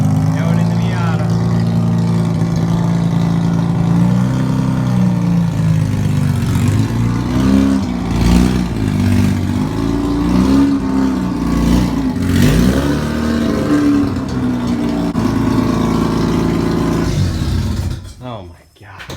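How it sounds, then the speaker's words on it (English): A Mazda FC RX-7 rotary engine runs loud and close, revving up and down in rough swells over a steady idle drone, with voices talking over it before the sound cuts off abruptly near the end. "The last time it's ever going to be running in the RX-7."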